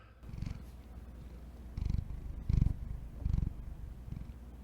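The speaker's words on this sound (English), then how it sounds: "It's a lot of purring." A cat purrs close by in rhythmic, rumbling pulses, each breath in and out audible as a soft swelling throb, with no talking.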